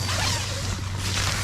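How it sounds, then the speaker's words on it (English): A zipper pull on an Ozark Trail two-person tent with tarp-like fabric runs in one steady close rasp, layered over a constant low hum. "Zipper pull to the inside."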